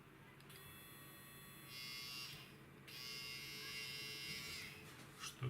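A disassembled electric hair clipper motor runs steadily with a bright, high-pitched buzz that stays constant, its pitch and strength shifting slightly a couple of times, heard up close and alone.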